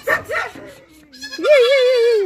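Young goat kids penned in a shed on a village farm bleat loudly and close by, with short cries early and then a long wavering bleat, while people talk nearby.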